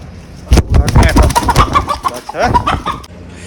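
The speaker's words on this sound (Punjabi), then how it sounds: "ਆਹ ਮੁਰਗਾ ਹੈਗਾ ਜੀ ਆਪਣੇ ਲਵੇ ਬਿਕਾਊ" Desi rooster clucking and calling up close in a rural yard, a rapid string of loud throaty clucks and squawks over about three seconds, with someone speaking alongside.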